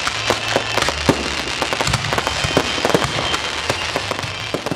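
A big fireworks display ends the evening at a village fair, with dense crackling bursts and sharp pops cracking out continuously over a low rumble, loud and close, with no talking.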